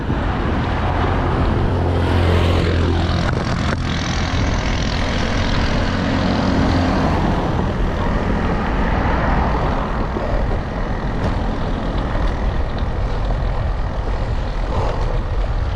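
A motorcycle rides over a gravel section of road, with a loud, continuous rumble of engine and road noise mixed with wind roar, heard close and steady throughout without speech.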